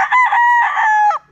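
A rooster crows once at a breeding house, a loud, close, drawn-out call lasting just over a second, then it drops away to near silence.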